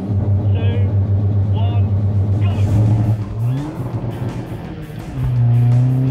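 A hot hatch, a budget £3000 car, accelerates hard from a launch, its engine loud and close as it climbs through the revs, then drops briefly on a gear change and pulls hard again, with faint voices mixed underneath.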